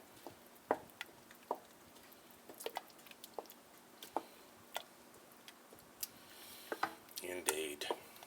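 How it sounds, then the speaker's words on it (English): A spoon stirs seasoning mix into a pot of turkey chili, making soft, scattered ticks and wet squishing taps close by, with a busier flurry of scraping near the end. "Stir that real good."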